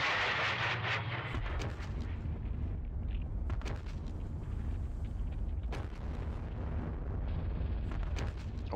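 Artillery rounds impact on the Ponyri battlefield in the wargame Squad Battles Red Victory: several heavy, rumbling booms strike at irregular intervals over a sustained low roar, with no talking.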